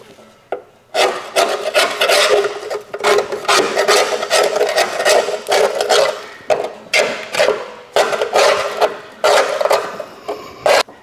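Rust being scratched and scraped off a lawn mower part with a rasping, wood-like rubbing sound, repeated in quick, uneven strokes, close and loud with no talk.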